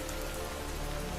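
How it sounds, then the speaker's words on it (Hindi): Heavy rain pours down in a cartoon forest scene, a dense, constant hiss of drops hitting surfaces, steady and unbroken throughout, with no voices. "बारिश तेज होती जा रही है"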